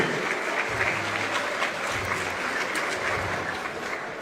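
A crowd applauding steadily at a boxing tournament, dense continuous clapping filling the space without a break for several seconds.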